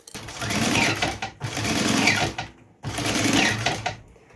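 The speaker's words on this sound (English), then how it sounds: "now what we're going to do is run a 1/4 inch seam allowance stitch" Three bursts of sewing machine stitching run a quarter-inch seam through layers of a sling crossbody bag, each steady, close and loud, separated by brief stops.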